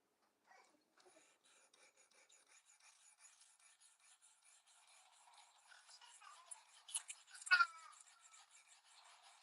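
A knife blade is drawn repeatedly across the stone of a fixed angle sharpener, producing faint rhythmic rasping strokes, close and quiet, that grow slightly louder and scrapier toward the end.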